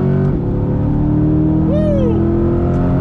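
A Corvette C8 on a racing circuit, its engine droning loud and close with a rising whine as it accelerates, a person talking over the steady roar.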